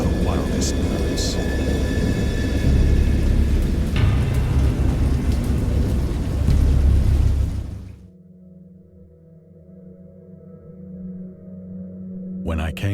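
Stormy weather in the Lovecraft horror game Dagon: dense rain and low thunder roar loudly for several seconds, then cut abruptly to a quiet low drone.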